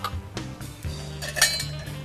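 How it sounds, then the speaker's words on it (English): A bar spoon stirs a rum cocktail with Angostura in a glass, giving a few close, light clinks and scrapes of metal on glass with short pauses between them. "I'm going to give it a quick stir."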